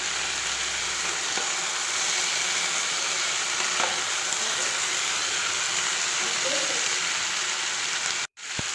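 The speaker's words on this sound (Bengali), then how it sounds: "দেখো কত সুন্দর ভাজা হয়ে যাচ্ছে, আর সবজিগুলো নরমও হয়ে যাচ্ছে" Vegetables for Bengali shukto fry in an uncovered pan, a continuous close sizzle with occasional stirring scrapes and no speech, ending with a brief bump.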